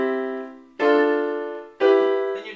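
Piano chords played with a badly timed damper pedal: three sustained chords, each struck firmly and ringing until the next, so they blur together without clean breaks.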